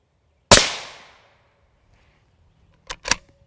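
A single sharp rifle shot, an Independence M193 round fired at silicon carbide Level IV body armor, cracks loudly with a quick decaying tail, followed about two seconds later by two short, sharper impact-like snaps.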